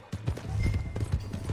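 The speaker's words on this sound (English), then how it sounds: "That's my horse!" A horse gallops in Red Dead Redemption 2, its hooves beating a fast, close, loud rhythm of repeated clip-clop thuds that runs throughout.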